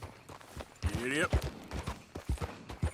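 Horse hooves clop along in a PlayStation video game, a soft rhythmic patter under talking voices and game sounds.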